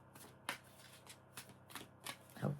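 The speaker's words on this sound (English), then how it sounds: "I'm going to do a couple more shuffles," Brisk riffle shuffles of a tarot card deck, close up, coming in several quick crisp bursts over a quiet background.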